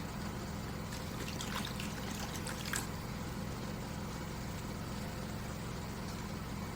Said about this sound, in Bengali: জলটা এরকম ঢেলে দিতে হবে যাতে ওপরে ক্রিমটা পুরো ভেসে ওঠে